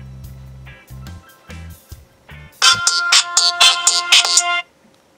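A bright electronic ringtone plays in a quick repeating melodic pattern through the small, mid-quality built-in speaker of a budget Cirrus 4 phone, preceded by a few lower beeping tones.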